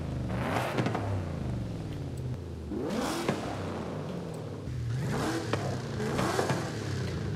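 A stock car engine in the video game Forza Horizon 5 revs repeatedly, rising and falling in pitch through several throttle bursts, loud and close with no talking.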